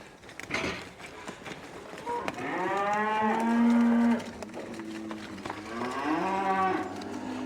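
Cattle on a farm bellow and moo loudly during a fight among the herd, with long drawn-out calls from several animals overlapping and swelling, then a second round of moos rising toward the end.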